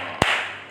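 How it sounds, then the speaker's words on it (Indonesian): Two quick, crisp hand claps about half a second apart, close and clear, over a faint steady hum with no talking. "Tepuk tangan dulu dong."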